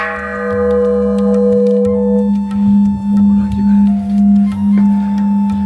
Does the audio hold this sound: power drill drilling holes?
no